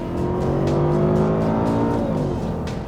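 A 2006 Mercedes-Benz SLR McLaren driving past with a loud, steady engine drone that swells and eases slightly as it goes, with no talking.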